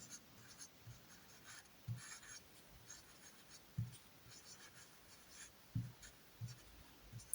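A pen scratching across paper while a math problem is worked out, with short bursts of strokes and small taps in an uneven rhythm, close but quiet, with no talking.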